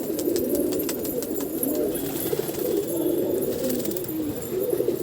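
A flock of pet pigeons on a rooftop coos in a dense, continuous rolling murmur in the evening, with faint sharp ticks and flutters over it and no voices.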